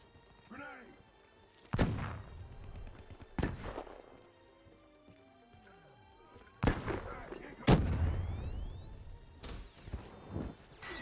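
Grenade explosion and gunfire in Black Ops 3, several heavy booms and sharp shots spaced over the stretch with sweeping whines between, close and loud, with voices underneath.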